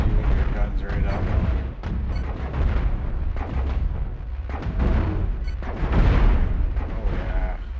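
Spaceship guns firing in the space combat game Cosmoteer, a rapid barrage of booming shots and blasts over a rumbling low roar, with someone talking over the action.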